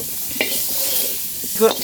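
Vegetables sizzling and hissing in a hot wok, with a couple of brief scraping stirs, close and fairly loud.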